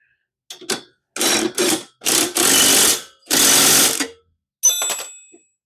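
Ratcheting tool tightening the rod on a McLane reel mower's cut height adjustment, heard as several loud, close bursts of rapid clicking separated by short silences.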